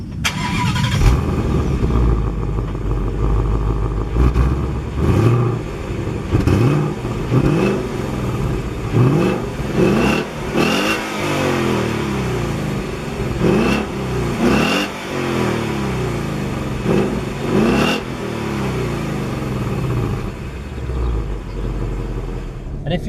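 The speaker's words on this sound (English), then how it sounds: "when I started the engine, the sound of the V8, it sounds amazing" A deep V8 engine in a Ford Mustang GT fires up and is revved repeatedly in strong, rising bursts, close and loud, settling into a low burbling idle between blips.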